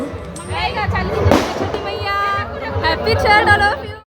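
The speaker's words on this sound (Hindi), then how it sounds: "भीड़ देख के आपको पता चल ही रहा होगा कि कितनी ज़्यादा लोग आए हुए हैं यहाँ पे छठ मनाने के लिए" Dense babble of a large crowd gathered for the Chhath Puja evening offering in Kolkata, many overlapping voices close by, steady and loud until it cuts off at the end.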